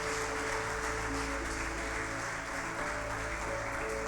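Church congregation applauding at a morning service, a steady broadband wash of clapping that holds for the whole stretch with faint tonal hum beneath.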